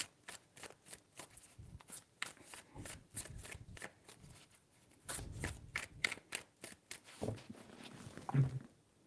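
Hands shuffle a tarot deck up close, producing rapid papery slaps and riffles in an uneven rhythm, quiet but continuous, with a small clack near the end.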